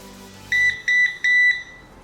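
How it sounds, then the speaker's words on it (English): A 4-in-1 smoke and carbon monoxide alarm (HD 11-CS) sounding its test: three loud, piercing electronic beeps at an even pace, close by, with nothing else heard. "this middle button, which is also your power button, is also your button to test the alarm"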